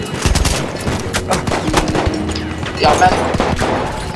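Loud, rapid gunshots crack in a video game, a quick series of overlapping shots close up, with a man's exclamation briefly over the firing.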